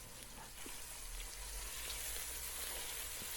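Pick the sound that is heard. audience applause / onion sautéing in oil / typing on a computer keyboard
onion sautéing in oil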